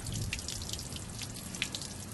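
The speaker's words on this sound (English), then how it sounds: "make sure that I'm draining all the water" Water draining out of a bass boat's drain plug, a faint, steady trickle and patter with scattered small drips.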